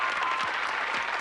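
A TV game show studio audience applauds in a brief, continuous wash of clapping, even in loudness throughout, with no voices on top.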